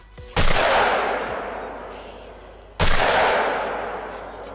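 Two loud shotgun blasts in the hunting game Call of the Wild, each a sharp crack followed by a long rolling echo that decays over a couple of seconds.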